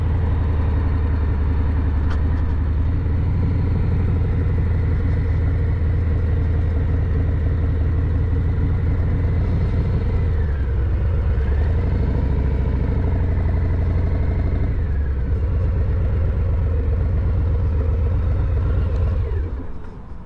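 A Harley-Davidson Low Rider S motorcycle rumbles up to a dealership, a loud, close, continuous low engine throb with shifting pitch as it slows, fading slightly at the very end.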